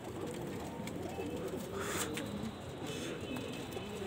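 Pigeons cooing at a racing-pigeon loft, a steady murmur of soft low coos from several birds with a faint chirp, no talk over it.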